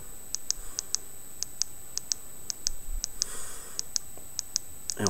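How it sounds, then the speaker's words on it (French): Phone keypad buttons are pressed in a settings menu, each press giving a short, crisp beep or click, repeated in a quick irregular series of about fifteen taps over faint background hiss. "Donc paramètres, on appuie sur la touche du haut."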